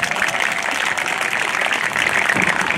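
Warm, sustained applause from an outdoor crowd at a Māori community event, a steady even wash of many hands clapping for guests, heard alone at a strong, constant level.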